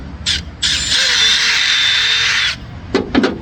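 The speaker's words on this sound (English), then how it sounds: "the hole is just a little bit small, so we simply take a drill and" A power drill whirs loudly in a short burst, widening a slightly undersized hole on a Newport boat engine, then a longer sustained run, followed by a few brief grinding bites as it finishes.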